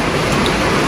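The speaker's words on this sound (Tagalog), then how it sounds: "Grabe yung ulan, ha?" Heavy rain pouring down in a steady, dense wash of noise, loud and close, with no break and no voices.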